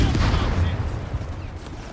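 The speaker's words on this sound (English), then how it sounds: "A lot of machine gun fire there." Rapid machine gun fire crackles in a Company of Heroes 3 battle with Afrika Korps and US forces, as dense overlapping bursts and distant booms form a loud, continuous din that thins slightly toward the end.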